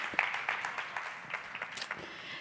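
Scattered hands clap in a lecture audience, a light, irregular patter of individual claps that stays fairly faint and thins toward the end.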